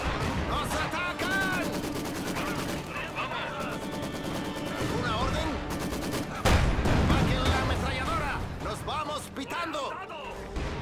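Bursts of machine gun fire crackle through a Company of Heroes 2 battle, with rapid rattling volleys, sharp gunshots and crashes layered over one another, while a voice speaks Spanish over the steady din throughout.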